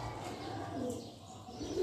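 A red racing pigeon coos softly up close in a loft, low murmuring calls with faint rustling, ending in a slightly louder coo.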